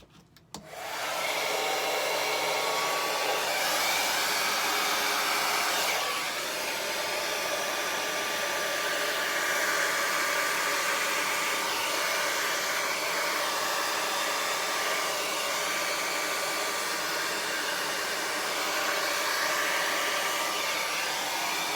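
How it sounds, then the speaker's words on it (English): A steady, loud rush of blown air pushes acrylic paint across a canvas in a Dutch pour, white spread over colors, a brief start then continuous blowing throughout. "First we're going to blow the white over the colors, and then we're going to blow the paint back to try and get our composition."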